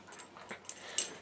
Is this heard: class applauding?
no